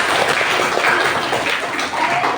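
Classroom applause rises as a dense, steady wash of many hands clapping together, holding at an even, fairly loud level for the whole stretch without a clear break.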